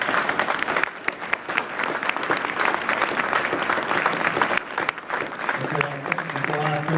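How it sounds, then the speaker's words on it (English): A university lecture audience at Bowie State gives a dense, sustained round of applause that stays loud and even throughout, with a voice beginning to talk near the end. "So I would like to give this brother another round of applause"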